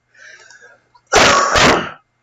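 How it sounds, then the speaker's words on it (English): A faint voice murmurs briefly, then a single loud, harsh cough bursts out close by in two quick pushes before stopping. "Sorry about that cough."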